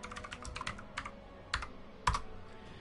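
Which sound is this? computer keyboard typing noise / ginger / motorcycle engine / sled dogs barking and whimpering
computer keyboard typing noise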